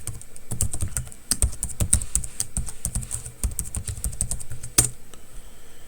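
A username and password being typed on a computer keyboard, with close, fast clicking keystrokes in uneven bursts and a few louder presses.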